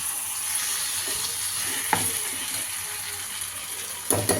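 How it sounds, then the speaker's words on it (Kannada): Sizzling curry in a pan hisses steadily at close range as a small cup of water goes in, with a few sharp clinks and scrapes of a utensil against the pan. "ಒಂದು ಸ್ಮಾಲ್ ಕಪ್ಪಷ್ಟು ನೀರು ಹಾಕೋಬೇಕು."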